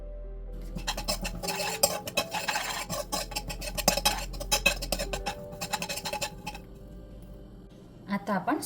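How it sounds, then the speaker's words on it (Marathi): Poppy seeds dry-roast in a pan for a karanji filling: a busy run of scraping and clattering stirring strokes against the metal, close and uneven, with quieter gaps near the end. "पहिले मी खसखस भाजून घेते."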